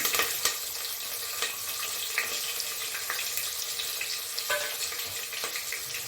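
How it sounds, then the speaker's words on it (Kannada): Onions and curry leaves fry in hot oil in a pan, giving a steady close sizzle with a few light stirring clicks, and no one speaks. "ಈಗ ಈರುಳ್ಳಿಯನ್ನು ಹಾಕ್ಕೊಳ್ತಾ ಇದ್ದೀನಿ"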